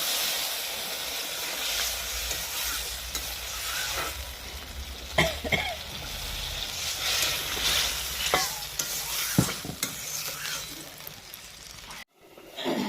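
Water poured into a sizzling curry of eggplant and mourala fish, a steady close hiss and bubbling with a few sharp clinks and scrapes of a utensil, ending in a brief silence.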